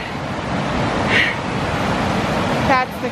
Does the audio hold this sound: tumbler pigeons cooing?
no